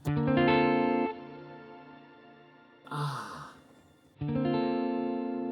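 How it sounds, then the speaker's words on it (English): An electric guitar plays through an ambient reverb pedal. Bright strummed chords ring out and fade into a long, lush tail, a breathy swell passes through the middle, and then another loud chord rings into the wash of reverb. "Here is a big, fat, luscious ambient reverb."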